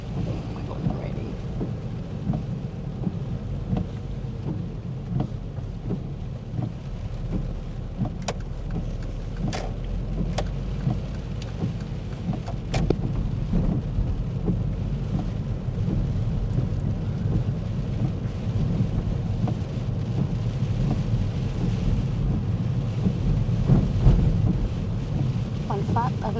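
Steady rain and road rumble inside a car driving along a road with temporary traffic lights, a continuous broadband wash that swells slightly louder in the second half, with occasional soft voices underneath.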